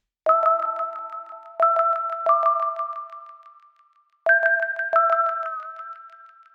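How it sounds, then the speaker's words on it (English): Bright sine wave synth plucks ring out in short phrases, each note decaying with a fluttering echo trail, a pause partway through, then another phrase. "This pluck, which is also just a sine wave."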